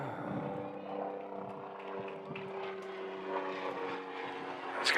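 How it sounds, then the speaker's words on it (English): A helicopter circles over an outdoor high school softball game, its steady droning rotor hum holding for several seconds amid distant crowd and field noise. "as that helicopter still circling around"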